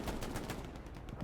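Rapid machine gun fire from the video game Hell Let Loose, a fast steady burst of close, loud shots with no talking.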